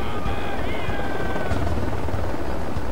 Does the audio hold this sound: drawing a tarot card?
no